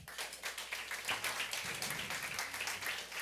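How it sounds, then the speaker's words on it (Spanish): A church congregation applauds together during a sermon, a dense, even roar of many hands clapping with nearly no voices. "Dale un aplauso al Padre."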